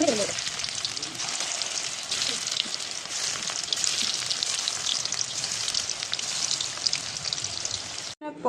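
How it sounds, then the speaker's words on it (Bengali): Fritters (bora) made with cornflour batter frying in hot oil; a continuous dense crackling sizzle, close and steady throughout, ending with a brief knock. "তো এবার বড়াগুলো ভেজে নেব।"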